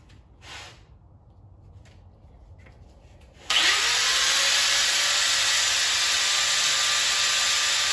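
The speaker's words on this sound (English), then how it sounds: "let's chuck this up in our vise and get our cut done" Power cutting tool starts abruptly and runs at a steady, loud whine on a carburetor-related part clamped in a vise, after a few seconds of low background noise.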